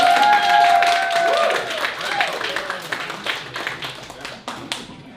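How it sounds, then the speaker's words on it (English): Comedy club audience in New York applauds a comedian taking the stage, dense clapping with scattered cheers that thins out over several seconds, while a voice speaks over the start. "round of applause for Brian Rabadeau"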